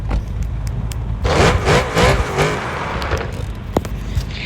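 A car engine in the mobile driving game Car Parking revs hard in a loud burst of rising, wavering roars, then falls back to a lower idle with a sharp click near the end, with no voices.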